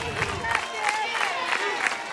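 Crowd at a college softball game, Oklahoma against Northwestern, cheering and applauding with steady broad roar and periodic swells, fairly loud throughout.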